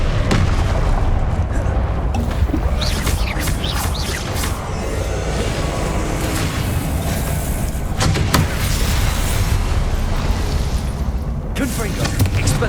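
Confringo blasting spell explosions in Hogwarts Legacy gameplay: continuous loud booms and crackling bursts layered in a dense battle din, with a voice shouting spell names over the fighting.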